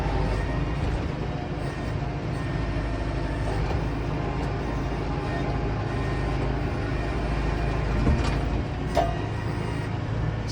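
A loader tractor carrying a firewood bucket drives along with a steady, close engine drone and rattling, a couple of brief clanks standing out near the end.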